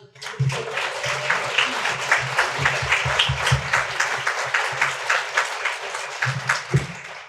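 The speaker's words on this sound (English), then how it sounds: "Let's have a round of applause." Audience applause for a business owners' panel at a transportation summit, a sustained round of many hands clapping, fairly close and even, with a low voice murmuring underneath and the clapping tapering off at the end.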